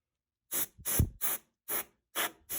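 Canned air sprayed to blow dust out of a PS4 CUH-1001A console, six short, close hissing bursts with brief silent gaps between them.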